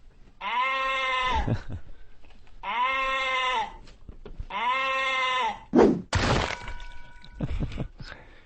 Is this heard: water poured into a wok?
no